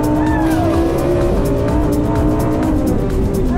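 A Lamborghini Huracan races on a track, its engine loud and continuous with rising and falling tones and tire squeal, close and constant throughout.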